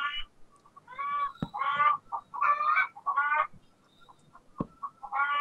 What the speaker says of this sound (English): Chickens apparently make new noises now.